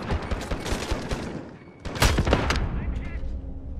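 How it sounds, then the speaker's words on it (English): Rapid enemy gunfire rattles in bursts during a Modern Warfare multiplayer match, sharp close shots with a louder crack midway, while a player talks over it. "I don't know where the hell he's shooting me from"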